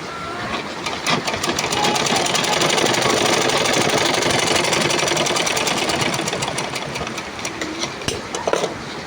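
A sewing machine stitches continuously after its tension and bobbin have been tightened, giving a steady rapid mechanical whirr with fine rhythmic ticking of the needle throughout, close and clear.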